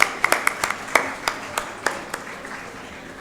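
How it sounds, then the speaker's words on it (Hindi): Scattered applause from an audience welcoming the participants at a birthday celebration event, sparse separate claps rising and falling over a few seconds, fairly close and alone. "जोरदार तालियों से आज के हमारे प्रतिभागियों का स्वागत कीजिए।"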